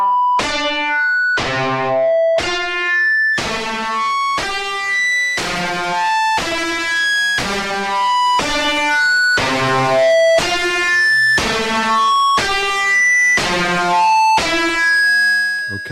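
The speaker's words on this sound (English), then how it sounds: "Now let's change the waveform as is displaying." An FM synthesizer plays a steady sequence of bright, metallic tones, about one note per second, with the timbre shifting between notes as the waveform is changed, and no one talking.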